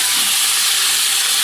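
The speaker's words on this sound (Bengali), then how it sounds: "তো এই যে তরকারি রান্না করছি" Curry bubbling in a pot on a gas stove gives off a brief, steady, loud hiss of steam and flame with no other sounds.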